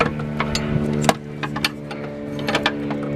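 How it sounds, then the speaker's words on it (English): A bolt is worked out of a factory upper control arm during a coilover and upper control arm suspension lift install, giving a few sharp metallic clicks and ratchet-like ticks over a steady mechanical hum. "Let me pull out that bolt."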